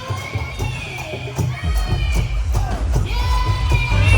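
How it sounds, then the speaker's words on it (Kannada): A large, dense crowd at a Hanuman Jayanti celebration in Virajpet, with continuous loud chatter, shouts and whoops, and several sharp claps or bangs throughout. "ಜನ ಸಾಗರ ಆಗಿದೆ"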